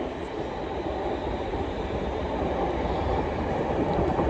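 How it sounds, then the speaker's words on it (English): A London North Western Railway class 350 electric train, unit 350-253, passes Primrose Hill, giving a steady broadband rumble and wheel noise that hold close and even throughout. "There's London North Western Railway 350-253."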